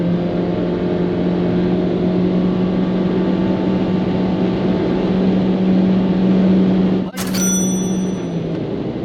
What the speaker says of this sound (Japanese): 高速道路にやってきました。 60キロから120キロのタイムを計測します。